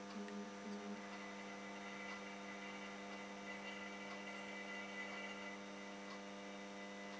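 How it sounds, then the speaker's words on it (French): A steady electrical hum with a strong buzzing tone from a warming 250W E40 sodium discharge lamp, its fixture vibrating, continuous and unchanging, with faint ticks in the background. "On entend la vibration du support."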